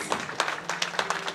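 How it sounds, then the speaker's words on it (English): Audience at a Congolese community International Women's Day celebration clapping, a quick rhythmic run of handclaps carrying on steadily across the moment. "Let's clap our hands, please."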